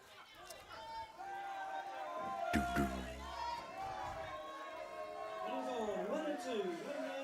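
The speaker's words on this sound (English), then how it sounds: "Crowd's getting a bit more vocal, so the dugouts." Crowd and dugouts at a U17 boys softball national championship game, Canterbury versus Southland, chattering and cheering in the distance, with a sharp slam midway and voices calling out over the steady hubbub.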